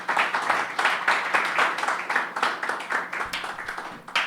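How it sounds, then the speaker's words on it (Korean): At a church founding service, a congregation applauds to welcome a pastor, with steady rhythmic clapping in a fairly even beat that carries on for several seconds at moderate volume. "한 분 더 뜨겁게 박수로 환영하겠습니다"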